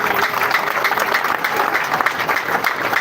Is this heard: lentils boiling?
no